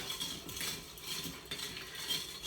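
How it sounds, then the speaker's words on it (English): A spoon stirs cream into an iced lavender latte, clinking steadily against the glass and ice in a continuous rhythm at close range, with no voices. "So then you just stir it up. Get it all mixed together,"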